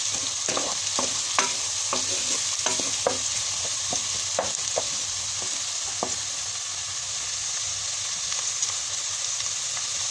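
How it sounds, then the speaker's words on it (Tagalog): Spaghetti sauce cooking in a pan with Filipino-style hotdog, a steady close sizzle broken by repeated sharp clicks and scrapes of a utensil stirring. "I am going to cook spaghetti sauce"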